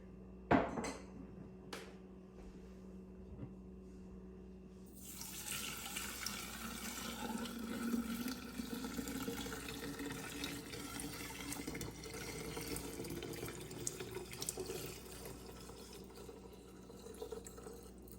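Liquid poured over a kitchen sink, a steady splashing stream starting after a few light clinks and continuing evenly for several seconds, close and moderately loud with no talking.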